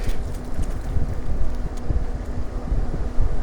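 Cold outdoor wind buffets the microphone on a sunny day, a constant loud low rumble with uneven gusty surges.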